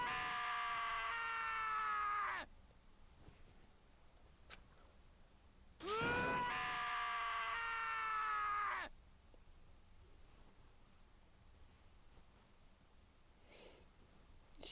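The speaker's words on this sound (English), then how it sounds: "Taka's sad screams invaded our skulls." A character's anguished screams during an execution scene in the Danganronpa: Trigger Happy Havoc video game, two long loud wailing cries separated by a short pause, then quiet.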